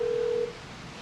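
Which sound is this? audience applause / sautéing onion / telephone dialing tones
telephone dialing tones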